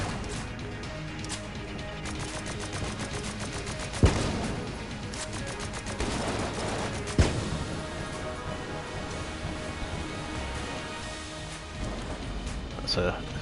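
Gunfire from a weapon in a video game, loud repeated bursts with a couple of sharp heavy blasts, set in a dense noisy mix of game effects and background sound.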